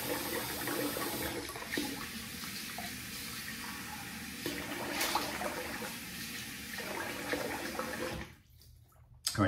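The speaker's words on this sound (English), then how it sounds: "I'm gonna rinse the face here." Tap water runs steadily into a bathroom sink while a man rinses his face after a wet shave with a Merkur 34c safety razor, a continuous close splashing flow that stops abruptly near the end.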